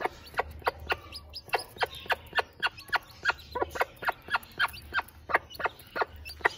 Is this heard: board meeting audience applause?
no